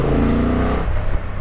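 Honda Transalp motorcycle engine idling with a deep, steady grunt close by, a dense low rumble that eases slightly toward the end, no talking.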